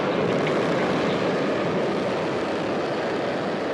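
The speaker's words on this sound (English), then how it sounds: "This is the final burn that this booster will execute leading up to landing." Falcon 9 first-stage booster engine firing its final landing burn, a steady, loud, broadband roar that holds constant and dense throughout without breaks.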